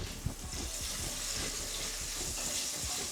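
Onions go into a pan with roasted ginger garlic paste, a dense steady hiss and sizzle with faint clicks of stirring running throughout.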